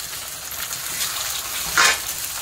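Tomatoes sizzle as they are sautéed in oil for paneer masala, giving a brief hissing burst of steam under a steady low crackle, short and close, with no voices.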